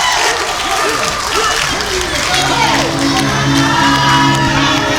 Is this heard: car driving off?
no